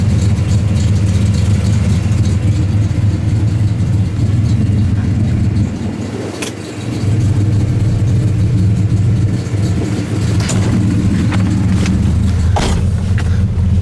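A 1970 Dodge Dart Swinger engine runs steadily, a loud, close, low rumbling drone with a brief dip in the middle and a few clicks over the top.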